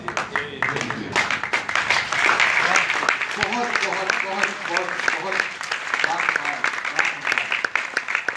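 Audience applause at a mushaira poetry recital, a dense wash of clapping running the whole stretch while someone speaks over it.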